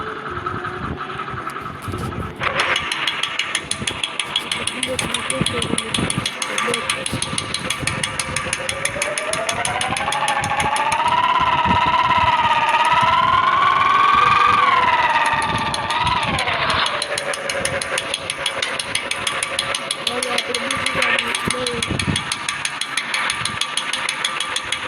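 A Bullet motorcycle engine runs with a steady rapid thumping beat, swelling in pitch and loudness midway as it revs, then settling back to an even idle; no talking.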